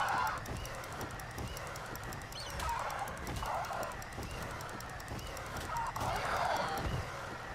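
A large bird creature in the survival game ARK honks repeatedly in loud, uneven calls over steady game ambience, with heavy footstep-like thuds underneath.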